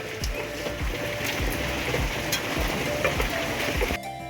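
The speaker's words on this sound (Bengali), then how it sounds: "আর বাইরে বৃষ্টি পড়ছে, ওয়েদার ভালো না" Steady rain falling outdoors during a home cooking session, a continuous wash of droplets with scattered louder drips and patters, fairly close, cutting off abruptly at the end.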